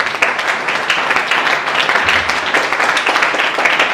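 A church congregation claps steadily and loudly together, a sustained wash of applause with rhythmic pulses running throughout.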